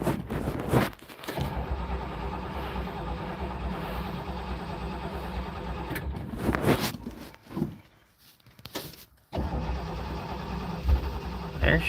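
A Ford Thunderbird that has not been started in a long time cranks, catches and settles into a loud, steady idle close by, stumbles almost to silence, then picks up again and keeps running.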